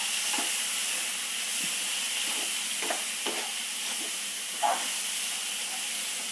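Cluster beans, boiled with turmeric and salted, are sautéed in a pan, producing a steady close hiss of sizzling with occasional soft scrapes and stirring taps.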